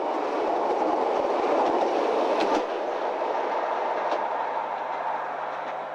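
A Nagano Electric Railway train on the Yashiro Line rumbles steadily along the rails in 2008, with a continuous low roar and faint rhythmic clicking of wheels, heard from inside the carriage.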